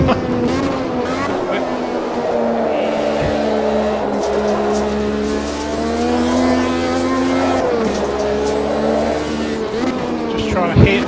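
A damaged 1985 Formula 1 race car engine in Automobilista 2 at the Brazilian Grand Prix, a loud continuous whine rising and falling with throttle and gear changes through corners.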